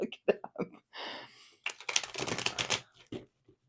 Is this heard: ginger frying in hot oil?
no